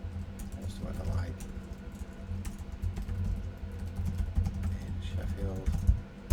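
Someone types a web search query on a computer keyboard, a quick patter of soft, close key clicks running under steady conversational speech.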